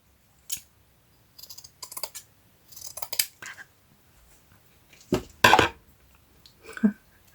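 Scissors snip several times in short, irregular bursts, crisp metallic clicks close to the microphone with quiet pauses between.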